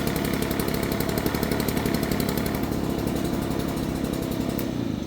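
A small leaf blower engine runs steadily on a cheap replacement carburetor, a continuous close buzzing idle with a fast even pulse and no pauses, cutting off slightly near the end.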